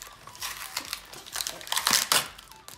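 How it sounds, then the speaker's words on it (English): Tape being peeled and plastic packaging crinkled on a Shopkins Cutie Cars toy, a close, busy run of crackling and tearing sounds with short bursts and pauses. "you have to take off the tape"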